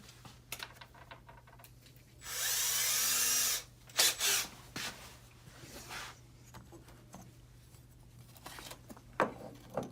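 A power drill bores a screw hole in a support grip, one burst of high-pitched whirring lasting about a second and a half, followed by scattered clicks and handling knocks in a quiet room.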